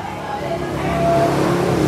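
A blue 2024 Honda Dream NCX motorbike engine runs at a steady idle and then swells slightly louder, a continuous close rumble with no talk over it.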